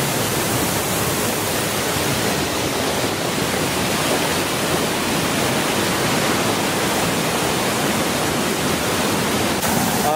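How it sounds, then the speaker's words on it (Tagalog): A waterfall in Bali rushes in a steady, loud, unbroken roar that fills the whole stretch without pause, with no voices over it. "Chasing waterfalls."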